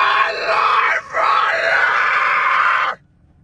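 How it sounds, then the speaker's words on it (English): A harsh metal-style scream from a man on Halloween night, one sustained loud growl of about three seconds with a brief dip near the start, then it cuts off abruptly. "And he can metal scream."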